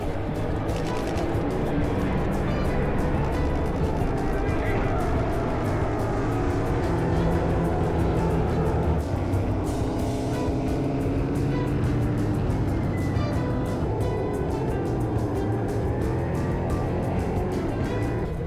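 NASCAR race cars roar continuously around the track, a dense, loud engine drone with shifting pitch as cars pass, with no talking over it.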